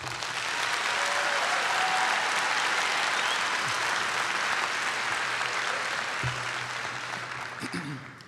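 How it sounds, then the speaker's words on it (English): Sustained audience applause for graduates at a College of Health Sciences commencement ceremony, a dense, loud wash of clapping that holds steady for several seconds before tapering slightly at the end. "So let's give our graduates a big round of applause, please."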